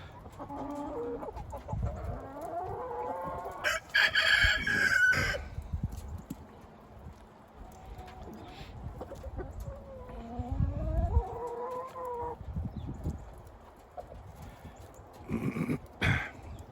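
Several free-ranging roosters crow in turn at varying distances, some near and loud, others fainter, with occasional clucking between the calls.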